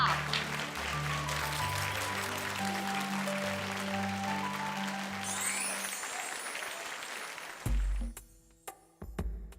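Studio audience clapping during a comedy segment of a Marathi TV serial, a steady crowd of applause rising over a musical backing, followed by a few loud thumps near the end.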